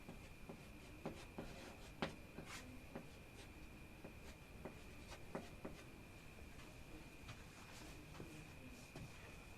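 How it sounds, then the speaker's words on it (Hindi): A maths question is written out by hand, with faint scratching strokes and small taps at an irregular pace over a quiet background carrying a constant thin tone. "अगर हम इस सवाल को लिखें यहाँ पर तो हम क्या लिख सकते हैं"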